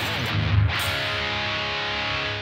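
Electric guitar played through a Blackstar amp with a touch of reverb, opening with a loud, distorted strummed chord that rings out and sustains evenly to the end, alone with no voices.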